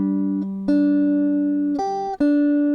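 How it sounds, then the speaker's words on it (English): An electric guitar plugged straight in with no amp gives thin, clean sustained notes, a few plucked tones changing pitch over a couple of seconds, dry and close. "This time we're gonna bring out the electric guitar and just plug straight in,"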